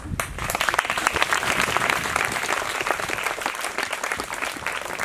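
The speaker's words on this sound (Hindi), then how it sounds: "और तुम्हारे दर्द पे ये लोग कितनी तालियां बजा रहे हैं" Audience applause during a staged health-awareness skit about anemia, malnutrition and disease: dense, steady clapping from many hands, loud and continuous throughout with no break.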